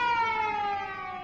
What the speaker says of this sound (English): I was just curious about that siren.